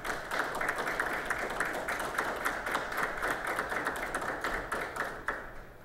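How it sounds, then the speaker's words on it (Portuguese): An audience at a public hearing on job creation in Taubaté applauds Volkswagen workers, with sustained, dense clapping at a moderate distance, continuing steadily for several seconds. "Essas palmas são para vocês, trabalhadores na Volkswagen"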